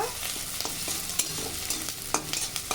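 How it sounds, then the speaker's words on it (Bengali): Chicken necks fry in a pan until browned, with a soft, steady sizzle and irregular scraping stir strokes, fairly quiet and close, with no voices. "এগুলো লাল লাল করে ভেজে নেব"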